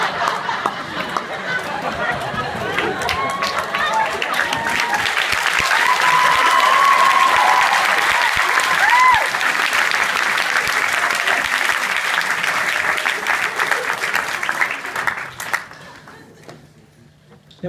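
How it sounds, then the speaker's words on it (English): An audience at a stand-up leavers speech for year 13 breaks into loud, sustained clapping and cheering that swells in the middle, then fades out near the end. "There was a bit more when you clapped"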